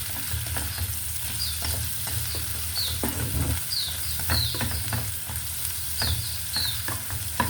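Scattered bird chirps sound faintly in the background behind a steady sizzle of onions sautéing in a pan for ginisang kamatis with egg.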